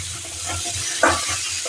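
Papaya curry with a fenugreek seed tempering being stirred in a frying pan: a soft, steady sizzle with one brief, sharper scrape of the spoon partway through, heard alone.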